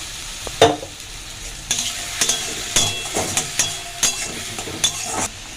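Onion paste with chopped green chillies frying in oil in a pan, a soft sizzle under repeated scraping, clinking stirring strokes at a steady rhythm, close by, no talk.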